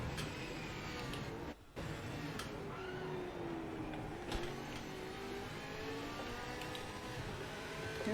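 A V8 Supercar in the racing game Project Motor Racing holds a sustained engine drone near flat out, with a short dip as it shifts gear, then a rising revving tone at the end; no talk.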